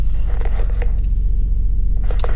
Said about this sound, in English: Alright, just letting the truck warm up.